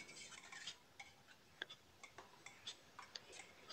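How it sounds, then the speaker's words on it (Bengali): A spoon stirring spices into beef paya in a cooking pot, with a steady run of light metallic clinks and scrapes against the pot at close range, and no talk. "এবার মশলাটা দিয়ে এখন আমরা নাড়িয়ে দেব সব মশলা।"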